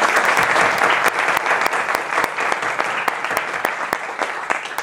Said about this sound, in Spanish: Burizaga, hijo de Gran Quique Burizaga, un fuerte aplauso para él.